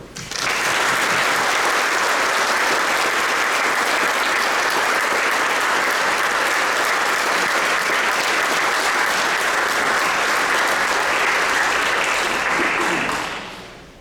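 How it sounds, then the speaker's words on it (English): Sustained loud applause from a theatre audience for a performer at the Lincoln Theatre, dense and even for about thirteen seconds before fading out quickly at the end. "I'd like to have you give a round of applause to Scrapper Broady"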